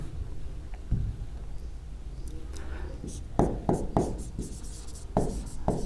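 A teacher writes on a board during an engineering lesson, making a series of quick scratchy taps and strokes that grow busier toward the end. A low voice murmurs faintly underneath.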